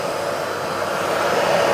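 Festool dust extractor running during woodworking, giving a steady, loud whooshing airflow drone that holds constant and alone throughout the short stretch.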